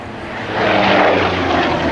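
A vintage Vought Corsair propeller warplane passes overhead, its loud, steady piston-engine drone swelling as it nears and staying strong throughout, with no other sounds.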